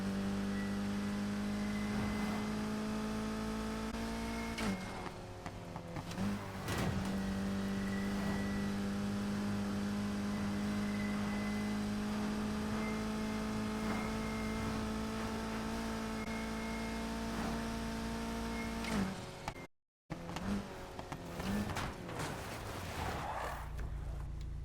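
A car engine in the Need for Speed Heat racing game idles and revs in sustained droning tones, rising in pitch, with a brief cut near the end before revving resumes, loud and close.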